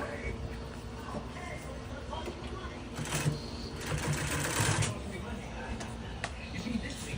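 An upholstery shop sewing machine top-stitches covering for a custom dashboard, whirring steadily close by, with a louder, busier run in the middle and voices faintly in the background.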